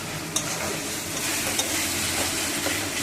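Ginger and garlic paste fries in a pan, a steady soft sizzle and hiss with occasional scraping stir taps, close and moderately quiet, with no talking.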